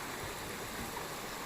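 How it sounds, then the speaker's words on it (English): A small creek in a fern-covered mountain forest flows with a steady, even rush of water, close by and without breaks. "Look at that little creek I just crossed a couple of seconds ago."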